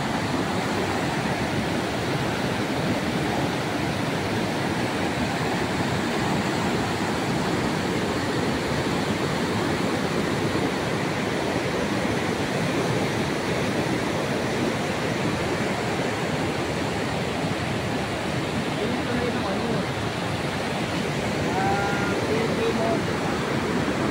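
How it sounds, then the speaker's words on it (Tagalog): A strong, fast river current rushing steadily, a dense, loud, unbroken roar of water close by with no letup. "Sobrang lakas ng agos. Ayan. Ang ingay."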